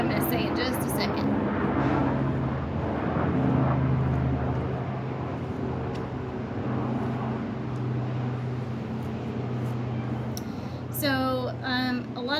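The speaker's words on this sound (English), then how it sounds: "there's a helicopter coming by" A helicopter passes overhead, heard as a steady low droning hum that holds through most of the clip and swells slightly in the middle, with a person speaking over it at the start and end.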